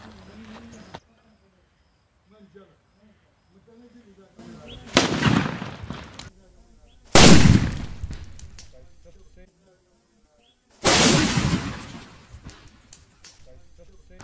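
A sutli firecracker bomb explodes during a Diwali cracker test, three loud separate blasts with long noisy tails, spaced several seconds apart, with quiet gaps and someone talking between them.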